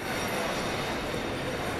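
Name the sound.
train at a railway station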